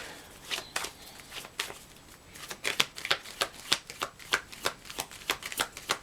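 Tarot cards are shuffled by hand in quick, crisp riffling bursts that speed into a steady patter, close and fairly quiet, with no talking.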